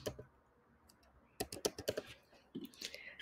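Someone types a number on a computer keyboard while checking in a guest in hotel software: two clusters of quick, crisp key clicks, fairly close and moderately loud, with no talking.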